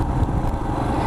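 A brief, close burst of a Royal Enfield Himalayan motorcycle engine running, a loud, rough low-pitched thrum lasting about a second with no talking.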